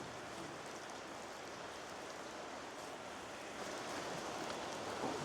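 Steady dripping and light patter of water after heavy overnight rain at an outback Queensland campsite, a dense even hiss throughout, faint and unbroken with no voices.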